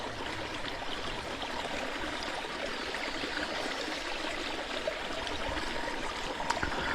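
A river flows past a springtime riverbank campsite, a steady broadband rush and trickle of moving water heard alone at a moderate distance, with a faint tap near the end.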